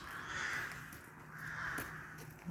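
Crows perched on rooftops in Zhytomyr cawing, two drawn-out harsh caws spaced about a second apart, faint and distant over quiet outdoor background.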